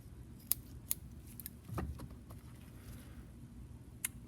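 Scissors snip sheep brain tissue during a dissection, a few faint, sharp clicks spaced out over a few seconds, with soft handling rustle in between.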